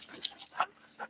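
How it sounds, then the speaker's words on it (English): Dog at a park giving a few short high whimpers and yips, close and fairly quiet, in brief bursts separated by pauses. "Get down, Beefy Dog. Good girl."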